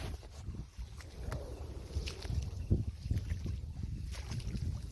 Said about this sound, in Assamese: তো এতিয়া আমি নাওখন এনেকৈ ঠেলি টানি লৈ গৈ আছোঁ